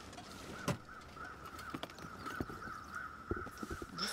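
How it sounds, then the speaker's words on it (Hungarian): Crows caw in the wilderness ambience of the survival game The Long Dark, with several short harsh calls scattered over a steady background hum, moderately distant and without speech. "Madarak azok vannak, az oké."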